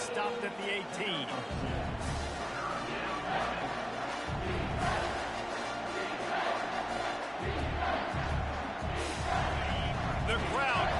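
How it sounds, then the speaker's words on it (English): A football stadium crowd roars behind the home defense during a Kentucky game, a dense, loud, sustained wall of cheering and shouting that swells in waves throughout, with an announcer-like voice faintly mixed in. "The crowd getting behind this defense as they try to get a stop in the red zone"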